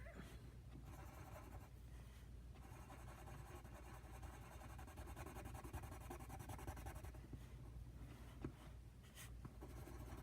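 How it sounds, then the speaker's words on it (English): A colored pencil dipped in Vaseline is worked across paper, making a faint, continuous close-up scratching and rubbing with small shifts in stroke rhythm and no voices. "I do roll my pencil around so to keep the Vaseline along the tip so that I don't always have to re-dip as well"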